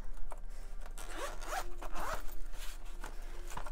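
Zippers on the compartments of a slot pencil case are pulled open, giving several close, raspy zipping strokes in quick succession with short pauses between them, heard alone against a quiet room.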